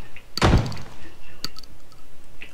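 A door slams shut in a video game with one heavy, close thunk, followed by a couple of lighter knocks, while a voice talks quietly in the background.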